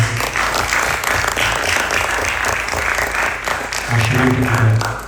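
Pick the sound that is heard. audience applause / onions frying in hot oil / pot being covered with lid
audience applause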